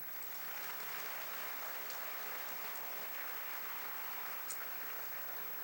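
A church congregation applauds steadily at a sermon by Pastor Ezequiel Molina Rosario, a dense, even wash of clapping that fills the whole stretch without pause, fairly soft and distant, with no voices over it.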